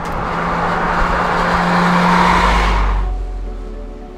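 A world touring race car with a 2-liter turbo engine roars loudly and close on a lap of the Zolder circuit, a sustained high-revving drone that drops off near the end into a lower rumble.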